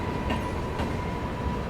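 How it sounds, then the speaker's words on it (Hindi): The Udaipur City–Patliputra Humsafar Express rolls past close by, a steady loud rumble of wheels and carriages with faint clatter throughout. "Udaipur city Pataliputra Humsafar express."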